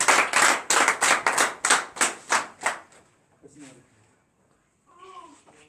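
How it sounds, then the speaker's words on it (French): A church congregation at morning prayer in Benin claps in acclamation, a burst of loud rhythmic group claps that stops abruptly, followed by a few quiet voices. "Donnez l'acclamation à Jésus"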